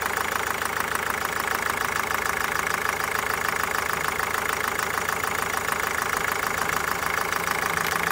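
A worn-out car engine with heavy blow-by runs steadily up close, giving a constant loud rattling, knocking idle with no change in pace throughout.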